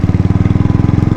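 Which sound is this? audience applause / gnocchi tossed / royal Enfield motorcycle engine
royal Enfield motorcycle engine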